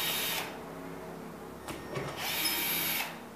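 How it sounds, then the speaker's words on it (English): A power drill whirring in short bursts while backing old screws out of ceiling sheetrock, close and fairly loud, with a brief pause and some scraping between runs. "Like I said, pull the old screws out."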